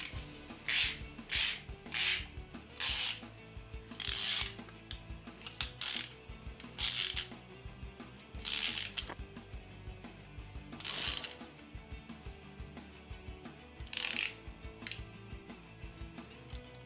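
A socket ratchet tightens a large tank fill valve assembly on a homemade flamethrower. It gives repeated short bursts of rapid, close clicking, separated by pauses, with no talking.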